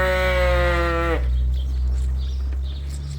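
A Dorset ewe gives one loud, wavering bleat close by on a sheep farm, then quiet barn ambience with a low steady hum follows.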